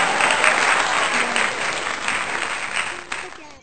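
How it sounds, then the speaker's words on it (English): Sustained audience applause fills the clip, a dense continuous clatter of many hands at steady strength that tapers slightly toward the end. "I clap for them again."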